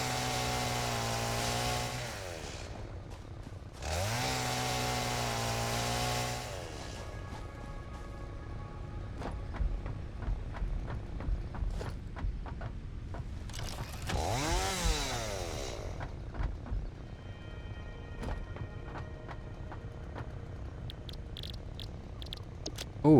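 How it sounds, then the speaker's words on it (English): Chainsaw in the video game Satisfactory, a harmonic motor whine that runs steadily and swells in a few loud bursts, with smaller tool clicks and buzzes between them. "And that's why we get the chainsaw."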